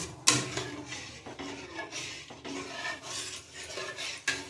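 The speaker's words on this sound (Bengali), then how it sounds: "খুব সুন্দর করে তালটা দুধের সঙ্গে মিশিয়ে নিতে হবে" A spoon scrapes and swirls through ripe palm fruit pulp mixed into milk in a cooking pot, giving a continuous close-up rubbing and stirring sound with light clinks against the pot and no speech.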